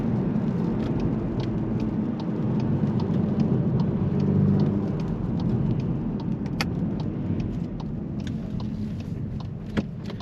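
A Volkswagen T-Roc 2.0 TSI with 300 horsepower, in race mode with its exhaust flaps open, gives a steady deep engine and exhaust rumble with scattered faint crackles and pops, heard up close and alone.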